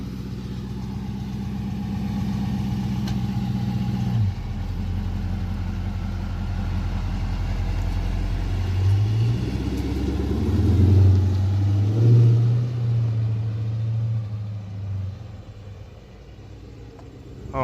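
Dodge Charger R/T engine while driving, a steady low rumbling drone from inside the car with the pitch rising and falling as it accelerates, heard alone without talk.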